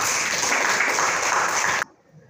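Students in a high school classroom applaud together, a loud burst of clapping that holds steady and then cuts off abruptly, leaving near silence.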